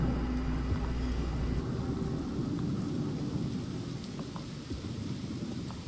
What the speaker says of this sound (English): Damn thunder.